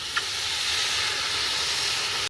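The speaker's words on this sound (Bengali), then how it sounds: "আমরা এবার জল দিয়ে দিচ্ছি।" Water poured into a hot pot of browned spiced mutton fat for khichuri sets off a loud, steady steamy hiss lasting the whole moment, with a faint clink near the start.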